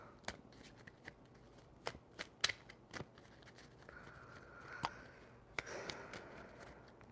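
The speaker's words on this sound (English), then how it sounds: "Shuffle them up." Tarot cards riffle and flick in scattered bursts, soft papery snaps with a brief louder shuffle near the end, close and quiet, no talking.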